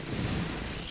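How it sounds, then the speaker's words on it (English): A photon resonance cannon firing in a video game, a dense, loud, noisy burst of blasting that fills the whole short moment with no pause. "Let's hit him with the photon resonance cannon."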